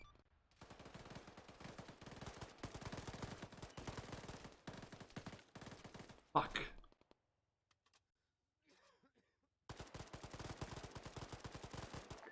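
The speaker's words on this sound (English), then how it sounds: "we're taking a lot of fire north, we're gonna need support, over" Automatic and rapid gunfire in the military shooter game Arma, dense sustained bursts that break off into near silence with a few faint clicks, then resume at full loudness.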